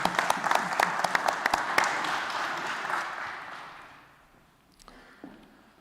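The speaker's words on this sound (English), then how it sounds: "Now we can clap and cheer." A church congregation at a Sunday service claps loudly at first, then the applause tapers off into near silence, with a faint voice near the end.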